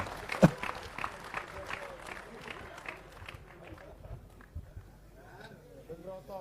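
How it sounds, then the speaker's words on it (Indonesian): A crowd at a gathering attended by a Regent breaks into scattered clapping that is strongest early and thins out as it fades, with voices murmuring underneath. "Tepuk tangan semua."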